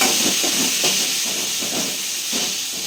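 Garlic and a green chilli sizzling hard in hot oil, a loud, close, continuous hiss with slight pulsing, no speech.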